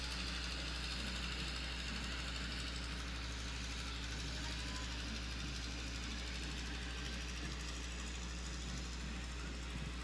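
A 1977 John Deere 2840 tractor runs at a steady, loud, rumbling idle with a fine rapid knock throughout, passing close by in a small-town hog festival parade, with continuous outdoor noise and no pauses.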